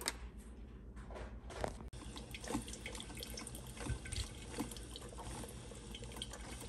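Hot water trickles and gurgles through a wetted coffee filter onto grounds at a Maryland coffee shop on Kent Island, a steady soft close liquid sound with small drips and splashes, quiet throughout.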